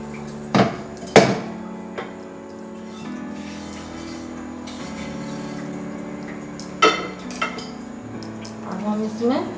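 Bitter gourd chutney being spooned from a grinder jar into a dish, with a few sharp clinks of a spoon against metal and pottery over a steady low background hum, nearby and moderately loud.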